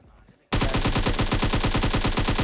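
Gunfire in the video game PUBG Mobile, reportedly a shotgun, erupts suddenly after quiet background sound into a loud, rapid, evenly spaced string of shots lasting about two seconds.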